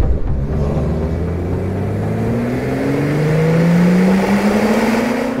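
A BMW fitted with an M Performance sport exhaust accelerates, its engine note rising steadily in pitch as a continuous loud, close roar with a deep rumble underneath and no talking.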